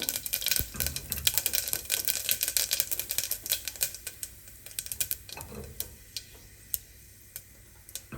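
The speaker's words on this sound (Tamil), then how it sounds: "சீரகம் கடுகு பொரியட்டும்." Rapid crackling and popping of mustard and cumin seeds spluttering in hot oil, dense at first, then thinning to scattered sharp pops.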